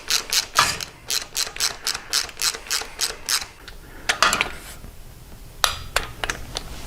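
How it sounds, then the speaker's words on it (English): A hand ratchet spins quickly as it runs in a standoff bolt with a washer on a Kuryakyn transmission cover on a Softail motorcycle, making close, steady clicking bursts in even strokes, then a few slower clicks after a brief pause. "Grab your standoff bolt and your washer with your new blue Loctite on there, and we'll run that one in"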